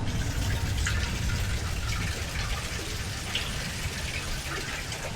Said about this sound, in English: That is a major water leak.